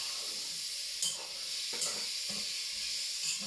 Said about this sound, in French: on laisse bien rissoler. L'important, c'est que l'oignon commence un petit peu à dorer et les lardons